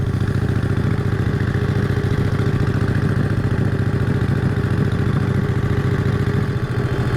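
A 1951 Harley-Davidson EL Panhead rumbles steadily while riding through a neighborhood, its loud, close engine thumping in an even, continuous low beat.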